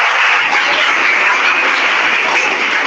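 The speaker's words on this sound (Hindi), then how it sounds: "इसके लिए तालियां" Loud, dense applause for a student at a school program at Government Inter College Dobhalwala, continuous even clapping filling the room without pause.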